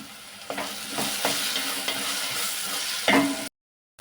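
A spoon scrapes and stirs masala paste in a hot pan for Godavari fish tamarind curry, with soft sizzling under several distinct scraping strokes, then sudden silence.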